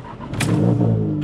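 A Stage 3 Polo GTI with an IS20 turbo fires up, the engine catching with a short crank and rising into a loud, close rev that holds steady.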